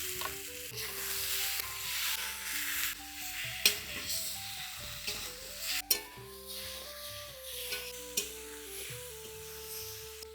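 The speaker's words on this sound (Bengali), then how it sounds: "এখন ফুলকপি আলু একসঙ্গে দিয়ে দেবো" Cauliflower and potato pieces fry in spices in a karai while being stirred. A steady sizzle runs throughout, with scraping strokes and occasional sharp clinks of the spoon against the pan, and no voices.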